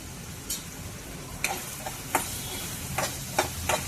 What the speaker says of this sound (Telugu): ఈ మసాలా ఈ విధంగా వేగింది కదా